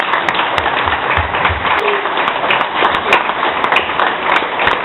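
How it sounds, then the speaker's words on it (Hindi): A crowd at a DXN business presentation applauds a speaker with sustained, even clapping throughout, fairly loud and close. "एक और ताली रुपेश वर्मा"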